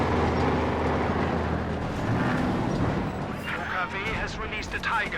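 Artillery barrage combined with heavy mortar fire in a strategy video game with Panzer IV and T-34 units, heard as rumbling distant booms and crackling impacts beneath continuous commentary from a voice.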